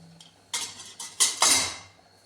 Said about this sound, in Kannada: ಈಗ ಪಾತ್ರೆ ತೊಳೆಯೋ ಕಾರ್ಯಕ್ರಮ ನಮ್ಮದು